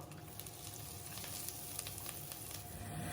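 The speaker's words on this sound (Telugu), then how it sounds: "కాస్త అవి చిటపట్లాడుతున్న టైంలో చీలికలుగా చేసుకున్న పచ్చిమిర్చి వేస్తున్నా" Green chillies, onion and curry leaves sizzling in oil in a clay pot, a steady crackling fry with scattered pops throughout, close and fairly soft, with no voices.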